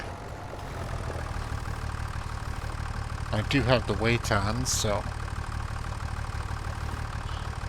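A tractor engine idles steadily in Farming Simulator 25, a low constant drone running through the whole stretch while someone speaks briefly over it in the middle.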